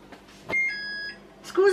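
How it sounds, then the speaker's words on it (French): A single electronic beep from an oven timer sounds clearly for about half a second, framed by brief bits of nearby speech. "Ce que vous entendez, c'est le bip du four, ça veut dire que c'est cuit."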